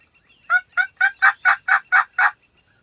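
A wild turkey gobbler gobbling in Kentucky, a rapid run of about eight throaty rattling notes, loud and clear against a quiet background.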